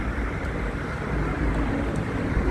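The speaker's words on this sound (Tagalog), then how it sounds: "Malakas ang hangin." Strong wind buffets the microphone outdoors while someone waits for a shuttle bus, a constant loud low roar that stays steady throughout with no voices.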